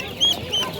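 Ducks at a poultry market in Beruniy give two short, faint quacks in quick succession over a murmur of market noise.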